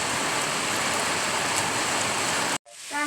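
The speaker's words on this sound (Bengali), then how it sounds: "দেখো বৃষ্টি পড়ছে" Steady, dense rain falls outside a kitchen, a loud continuous hiss that cuts off abruptly near the end.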